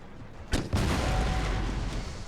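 Cannon fire in Empire: Total War during a large battle, a sharp boom followed by a second blast and a sustained rumbling roll of artillery that lingers.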